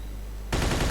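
A sudden loud burst of rapid gunfire in the Mafia 2 video game erupts halfway through after a steady low hum.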